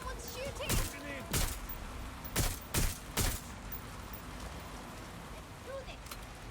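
Several sharp gunshots in Watch Dogs: Legion ring out singly and in quick pairs over a steady noisy background, moderately loud, with a voice talking nearby.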